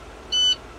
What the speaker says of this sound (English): Buzzer and warning light should be on.